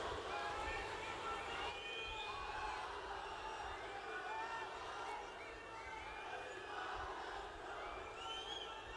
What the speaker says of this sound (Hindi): जोरदार तालियां माननीय मुख्यमंत्री महोदय के लिए।